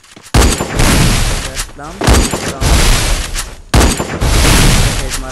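Loud bursts of video game gunfire come in three heavy volleys with brief gaps between them, while a voice talks over the shooting.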